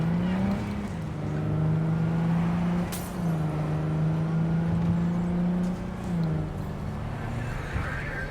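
Car driving in Cyberpunk 2077, a steady engine drone holding one pitch with a couple of dips and rises as it shifts, close and continuous, with a sharp knock partway through and quiet talk underneath.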